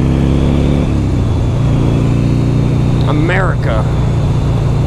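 A 2006 Buell XB12R sport bike's engine runs loud and steady with a strong low rumble, holding at high revs near the limit, while a voice speaks briefly over it near the end.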